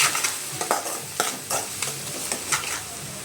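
Onion, green chillies and ginger paste fry in a pan with a steady sizzle, broken by repeated scraping strokes of a stirring spoon, close and clear with no voices.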